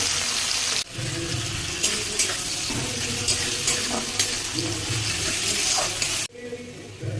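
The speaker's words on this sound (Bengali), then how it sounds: "পেঁয়াজগুলো দিয়ে দিলাম" Onions sizzle loudly as they fry in hot oil for a rajma curry, a steady close crackling hiss with stirring scrapes, cutting briefly near the start and again near the end.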